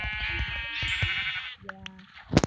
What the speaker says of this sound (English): And right now, there's just only sheep here,